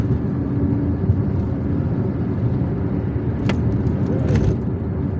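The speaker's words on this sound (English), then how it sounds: "So there is traffic here as we are approaching Chevalley." Steady road traffic rumble heard from inside a moving car on a busy Algiers street, a continuous low engine and tyre drone with a couple of brief higher squeaks or horn-like blips near the end; no voices.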